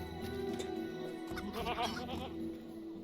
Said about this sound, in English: Oh, the goat.